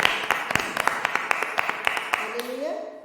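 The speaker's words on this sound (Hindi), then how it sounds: "जोरदार तालियों से स्वागत करते हैं" Brisk rhythmic clapping from a prayer meeting congregation welcoming God, sharp repeated claps fairly close, thinning out at the end as a voice begins.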